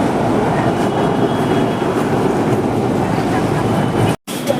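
A Nagpur Metro train at the station gives a loud, steady rumble and hiss close by, with a voice speaking over it, then cuts off abruptly near the end.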